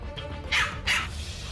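Dogs bark in a gauntlet of people and dogs during a training walk: two sharp, fairly loud barks spaced about a third of a second apart over a murmuring background.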